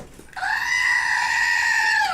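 A goat bleat sound effect played during a live stream: one loud, sustained, nasal cry lasting under two seconds, starting abruptly and fading at the end, with no talk over it.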